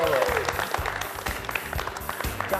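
A studio audience applauds on a television talk show, a short burst of clapping close by with a voice and music-like tones mixed in underneath.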